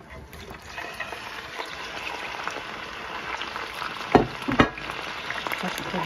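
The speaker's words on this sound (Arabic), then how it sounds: "وتوا كيف تشوفوا حطينا الزيت يسخن، وباش نبداو بالخضرة متاعنا بعد ما قصيناها" Chopped vegetables sizzle in hot oil for Tunisian shakshuka over a strong gas flame: a steady, close frying hiss with a couple of louder splattering bursts midway.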